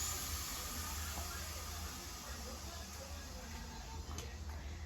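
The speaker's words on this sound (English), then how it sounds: "So you can hear all the steam has released out." A steady, fairly loud hiss of steam venting continuously from a pressure cooker, with no pauses.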